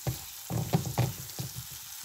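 Green chilies frying in a pan for batata vada, a close sizzle broken by several quick scraping stirs in an uneven rhythm, short and alone with no speech.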